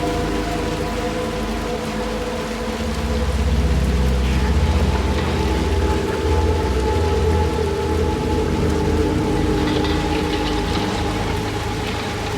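Rain falls in the video game Little Nightmares II, a continuous loud hiss of drops layered over low droning game ambience and a deep rumble, with no speech.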